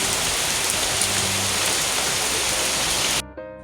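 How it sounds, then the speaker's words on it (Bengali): Heavy rain pours down in a loud, dense, unbroken hiss that cuts off abruptly near the end. "বৃষ্টি তো এখনও পড়ছে"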